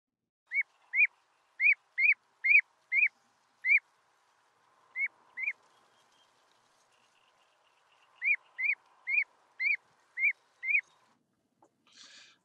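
A bird near its nest, feigning a broken wing, gives a distraction call: sharp, piping whistled notes in three quick runs with short gaps between, clear and solitary against silence.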